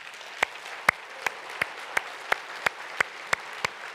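Sharp hand claps from a church assembly ring out in a steady, evenly spaced beat, about ten in a row, over quiet background.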